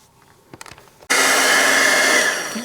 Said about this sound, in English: I might go ahead and just hit it with the heat tool